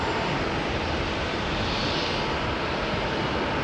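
A United Airlines airliner in Star Alliance livery at Auckland International Airport gives a steady, dense engine rush, close and fairly loud, without voices.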